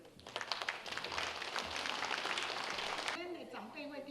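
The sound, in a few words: audience applause welcoming a speaker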